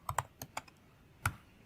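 Quick keystrokes on a computer keyboard, a short cluster of about five clicks followed by a single tap after a brief pause, close and faint.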